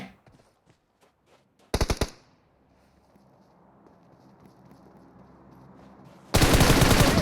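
Gunfire in a mobile shooter game played on an iPad Air 4, with a short automatic burst, a quiet stretch, then a sustained loud burst of rapid shots at the end.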